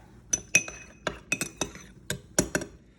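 A spoon clinks repeatedly against a glass or ceramic bowl while white wine vinegar and a pinch of salt are stirred together, a quick irregular series of bright, close taps.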